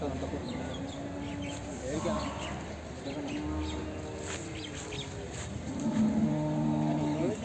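Heavy Jaffarabadi buffaloes at the Sunday Erragadda buffalo market, with low moos and lowing under market chatter, birds and a busy crowd, the calls fairly close and repeated.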